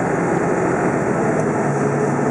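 A 1999 Ford F250 Lariat 4x4 with the 7.3 diesel pulls hard under acceleration on a test drive, a loud, steady broadband engine roar that holds constant throughout with no talking.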